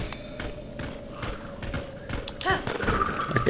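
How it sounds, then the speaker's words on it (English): Skeleton horse hooves clip-clop in Zelda: Breath of the Wild, rapid galloping beats with a whinny near the end and busy game sounds around them. "There are skeleton goblins riding skeleton horses."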